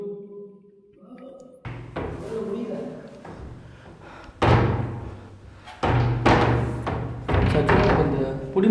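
A door in a house being forced open and slammed: several heavy, close thuds and knocks land at irregular intervals, with people talking in between.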